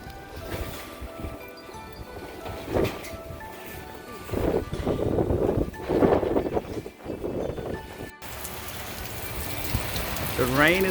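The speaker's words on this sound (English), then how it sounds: "The rain is bringing colder temperatures out here." Steady rain falling outdoors with wind building and gusting, a continuous broadband wash that swells and fades, with a short quieter break near the end before the rain resumes.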